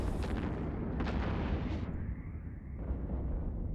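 Heavy booming blasts as a battleship explodes in EVE Online, several deep rumbling impacts that roll into a fading low roar.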